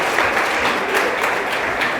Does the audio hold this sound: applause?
yes